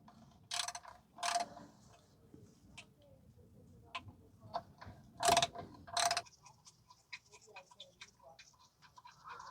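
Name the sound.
ratchet loosening rusty bolt on Toyota Sienna differential mount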